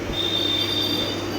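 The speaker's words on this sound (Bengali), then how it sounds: "ইতিমধ্যে আমাদের ট্রেন ছেড়ে দিয়েছে।" A departing train's wheels squeal against the rails in a steady, sustained high screech over continuous rolling rumble, close and fairly loud throughout.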